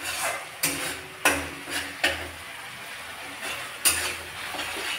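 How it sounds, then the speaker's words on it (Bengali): Masala sautéing in a pan for a Bengali fish dish: a steady sizzle runs underneath several sharp spatula knocks and scrapes against the metal, spaced irregularly. "এবার মশলাটা কষতে দেবো কিছুক্ষণ"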